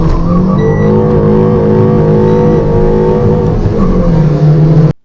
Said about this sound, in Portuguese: eu fui arrancar com o Renault Sandero RS pela primeira vez naquele lugar